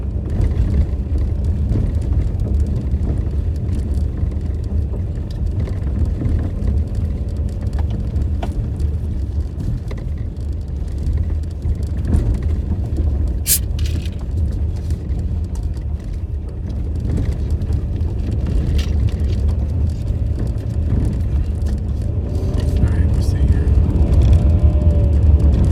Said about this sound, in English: Might be able to hear the engine. Like I said earlier, it revs up.